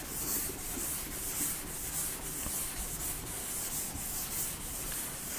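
A duster rubbing writing off a classroom board in steady back-and-forth strokes, a soft rhythmic scrubbing heard close and alone, with no talk.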